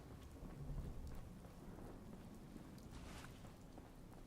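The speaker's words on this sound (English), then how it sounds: "Boy, it's getting a little stormy out here." Thunderstorm in Fallout 4: a soft, steady hiss of rain with low rumbling thunder rolling underneath, fairly quiet and continuous throughout.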